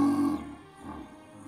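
A human voice imitates a lion growl through an empty paper towel tube. One short, loud, hollow roar lasts under half a second, then trails off into a quieter rumble.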